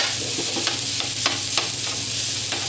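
Garlic frying in hot oil for garlic fried rice, a steady close sizzle with intermittent stirring scrapes, no talk.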